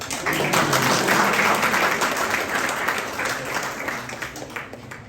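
Sustained applause from an audience at a college book talk in Pune, dense and even, tapering slightly toward the end.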